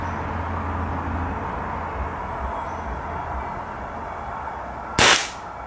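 A Kral Puncher Nish .177 air rifle fires a single sharp shot at 20 joules near the end, a loud crack standing out over steady outdoor background noise.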